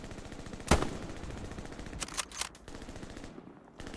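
Machine gun fire in the World War II shooter Hell Let Loose, heard as a loud burst early on and then further short bursts in the later part, all against steady battlefield ambience.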